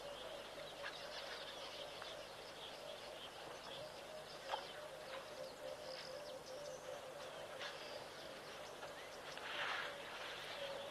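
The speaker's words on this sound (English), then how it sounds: "that you guys can hear the birds chirping away merrily" Birds chirping at a wildlife waterhole, with scattered calls, tweets and occasional wing flaps over a steady outdoor ambience, fairly distant and continuous.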